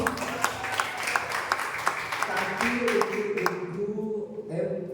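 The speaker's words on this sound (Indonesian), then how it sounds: "Tepuk dulu." Applause from the audience at a school olympiad final for Hari Santri Nasional, a burst of clapping with sharp hand claps, close and fairly loud, fading toward the end as voices carry on underneath.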